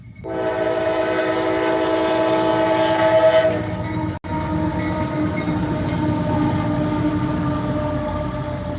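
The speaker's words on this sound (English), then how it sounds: "we got a train live" A CSX freight stack train rumbles past in the rain in New Castle, Pennsylvania, with a long, loud horn blast over steady clanking wheels; the horn cuts off midway and the heavy rolling noise continues.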